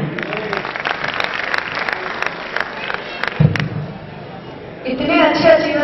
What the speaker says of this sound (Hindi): इतनी कम तालियां हैं आप लोगों की